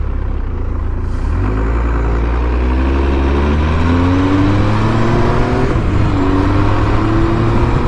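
Engine of a 1997 Triumph Speed Triple T509 motorcycle under way, loud and close, its pitch climbing steadily through the gears as the bike accelerates, with no talking.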